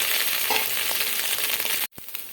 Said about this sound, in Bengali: সোয়াবিনটা ভাজা হয়ে গেছে, এবার তুলে নেবো।